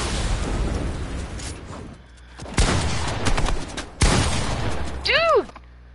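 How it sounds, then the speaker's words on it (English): Rocket launcher blasts in a building shooter game come as several heavy booming explosions, close and loud, separated by quieter gunfire and game noise, ending with a rising synthetic whistling effect. "Who keeps shooting rocket launchers?"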